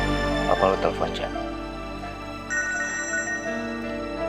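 A phone rings with an incoming call in an indoor drama scene, its electronic tone sounding steadily at moderate level beneath and after a stretch of conversation.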